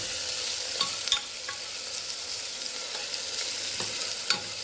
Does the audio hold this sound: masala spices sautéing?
yes